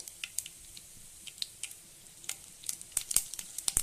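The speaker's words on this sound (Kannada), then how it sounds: "ಈಗ ಎಣ್ಣೆ ಕಾದಿದೆ ಚೆನ್ನಾಗಿ ಈಗ ಇದಕ್ಕೆ ಒಗ್ಗರಣೆ ಕೊಡ್ಕೊತಾ ಇದ್ದೀನಿ" Mustard seeds crackle in hot oil for a tempering in a home kitchen, a soft frying hiss dotted with sharp little pops that grow more frequent toward the end, fairly quiet and close.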